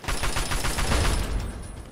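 In Fallout 3, rapid gunfire shoots at turrets in a dense burst of overlapping shots. It is loud and continuous, then thins out toward the end.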